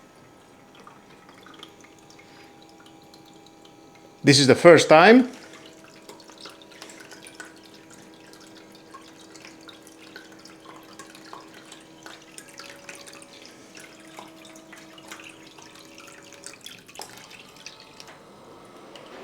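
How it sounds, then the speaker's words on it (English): A Silvercrest SEMK 105 C1 ice maker pumps water, giving a brief loud gurgling burst followed by a long stretch of faint steady hum with light drips and trickles, close by and with no talk. "Now it's pumping the water."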